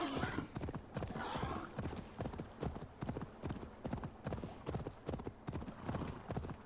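Horse hooves clip-clop in a steady, rhythmic trot in Assassin's Creed Valhalla, close and fairly quiet, with a brief whinny near the start.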